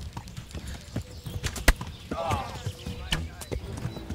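Horse hooves clip-clopping in the medieval video game Kingdom Come Deliverance, a loose run of irregular thuds at moderate distance mixed with game sounds, with someone talking over parts of it.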